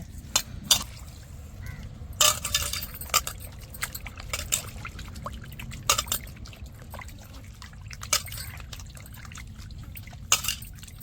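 Chicken pieces rinsed by hand in turmeric water, with repeated sloshing splashes and trickles at irregular intervals, moderately close, with no talk.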